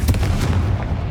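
Confringo fire spell from Hogwarts Legacy exploding in a loud, dense, booming rumble that fills the whole short moment, sustained and close without any voices.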